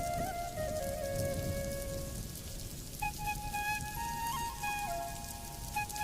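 Rain falls in an animated cartoon scene, a continuous close patter on surfaces with faint sustained tones running underneath.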